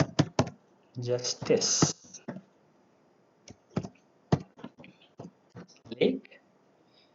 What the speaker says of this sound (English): Let's type again.